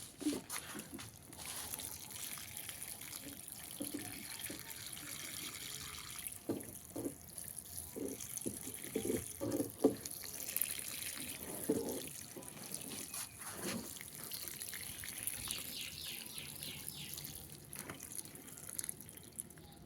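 Water splashes and trickles steadily for a long stretch, with intermittent louder pours and drips close by, as liquid fertilizer is tipped from a can onto grapevines in small polybags.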